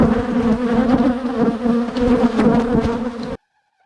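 Honey bees buzz densely around an open beehive during an inspection, a loud, close, continuous droning hum that rises and falls slightly before cutting off abruptly.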